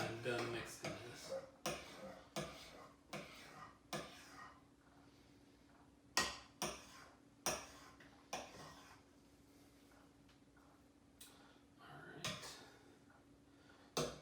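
A spoon stirs a creamy pink mixture in a bowl, clinking and scraping in a steady series of sharp taps spaced about half a second apart, with a low hum underneath.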